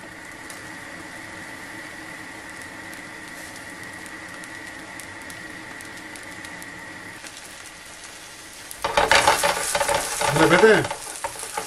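Food fries in a pan on a stovetop, a quiet steady hiss and hum that swells into loud crackling sizzle and stirring near the end, with a brief spoken word.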